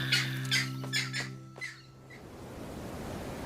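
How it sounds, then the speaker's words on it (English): A few sharp squawks from a bird ring out in quick succession, then the sound fades into steady surf-like noise. "His loud squawks chase the intruder off."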